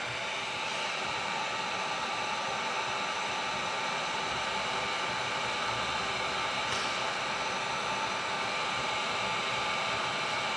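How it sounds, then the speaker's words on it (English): Heat gun blowing a steady, even hiss of hot air to soften glue on Jaguar MKII wood trim, continuous and moderately quiet, with no speech. "Now, heat gun to soften up the glue."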